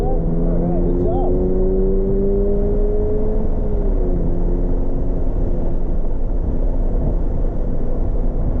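Toyota GR86 (2022) on a race track during a high-performance driving session, engine droning steadily under throttle with rising harmonic tones, heard from inside the cabin continuously throughout, with an instructor's voice over it early on.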